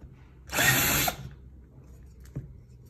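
A power drill whirs in one short, high-pitched burst of about half a second, followed by quiet and a faint click.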